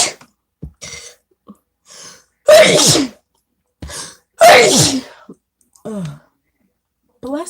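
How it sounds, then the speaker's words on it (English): Two forceful sneezes burst out a couple of seconds apart, surrounded by short breaths and brief vocal sounds. "don't sneeze, don't sneeze, don't sneeze."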